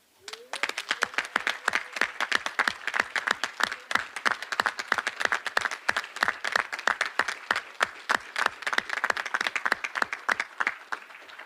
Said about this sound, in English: I would like for you to stand so we can applaud you for supporting your students.